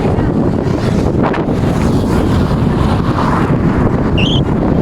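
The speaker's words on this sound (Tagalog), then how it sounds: "napakalakas ng hangin ngayon" Strong wind buffets the microphone in a steady, loud roar throughout in an open area, with gusty low rumble and no talking.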